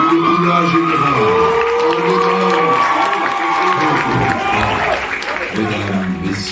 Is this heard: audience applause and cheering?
yes